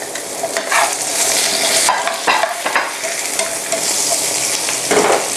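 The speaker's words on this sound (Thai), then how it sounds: "ผักที่เราเตรียมไว้อะค่ะย่างลงไปในเนยที่เหลือค่ะ" Vegetables grilled in leftover masala butter for tofu tikka, crackling loudly and steadily up close while a utensil shifts and stirs them in irregular bursts.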